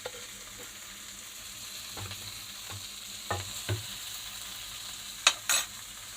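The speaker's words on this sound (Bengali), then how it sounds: "নেড়ে এর মধ্যেই আমি আদার পেস্ট দিয়ে দেবো।" Ginger paste goes into a frying pan of vegetables and is stirred, a soft steady sizzle under a few scraping strokes and a couple of sharper metallic clinks near the end.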